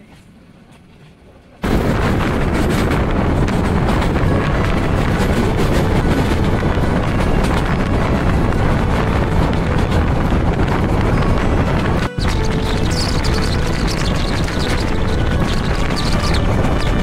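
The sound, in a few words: train running through Gangasagar railway station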